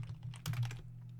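Quick run of keystrokes on a computer keyboard, close and fairly soft, over a constant low hum with no talking.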